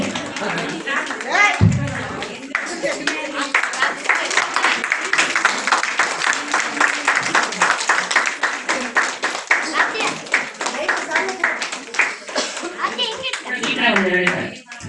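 A crowd at an International Women's Day event claps for the lighting of a ceremonial lamp, a dense and fairly loud rattle of many hands that carries on for a long stretch with voices mixed in.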